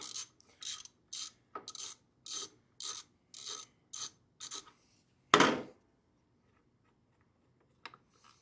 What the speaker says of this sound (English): you're just simply just going to take this big old bolt out